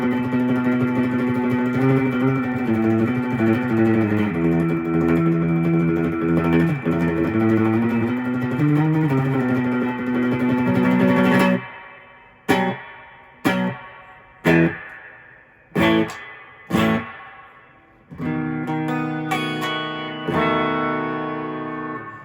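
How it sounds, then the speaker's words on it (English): An electric guitar plays through an amplifier with reverb turned right up: washed, sustained chords followed by a series of sharp strummed hits whose heavy reverb tails ring on. "And of course that reverb gets really soupy if you're not careful."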